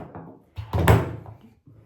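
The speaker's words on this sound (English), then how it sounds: "Knocking things over." A cluster of clattering knocks and a heavier thud as objects tumble over, loud and close, settling into quiet.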